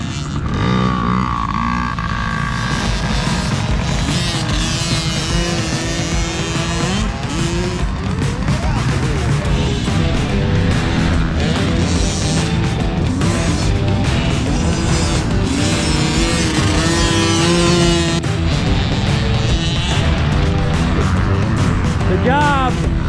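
Several motocross bikes roar and rev on an Ohio dirt track, a dense, loud wash of engines rising and falling in pitch for the whole stretch, with voices shouting encouragement underneath.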